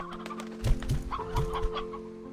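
Chickens clucking on a chicken farm in the video game Slime Rancher: several short, low clucks in an uneven cluster, then a few higher, quicker calls, all over a steady background hum.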